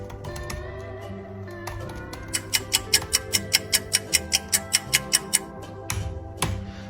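Rapid keystrokes on a computer keyboard at a police station desk while a report is typed, a steady run of sharp clicks building in the middle with a few isolated taps before and after, close by and alone.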